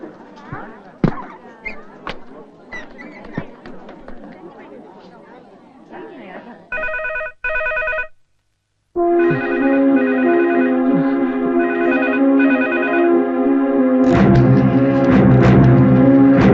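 A telephone bell rings in a comic film scene, with repeated bursts of electronic ringing that start after a stretch of speech and clatter, then continue loudly and steadily to the end.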